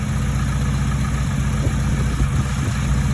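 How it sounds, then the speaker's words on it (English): A 2002 Acura RSX Type S engine idles steadily with a suspected rod knock, a continuous close, loud low rumble with a faint repetitive ticking running underneath. "And we've got a rod knock issue."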